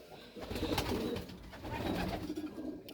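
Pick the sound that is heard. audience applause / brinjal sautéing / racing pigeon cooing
racing pigeon cooing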